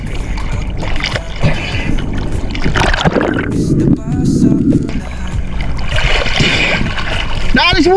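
Engine rumble and water sloshing around a small boat being anchored, with people shouting and talking loudly over the noise.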